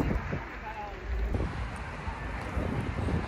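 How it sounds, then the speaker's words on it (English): Steady, blustery wind buffets a microphone outdoors in Houston, a constant rumbling roar that fills the whole stretch with no letup. "It's very windy."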